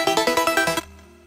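A Serum synth arp stacked in octaves plays a quick run of about seven evenly spaced bright plucks, then cuts off into a short fading tail.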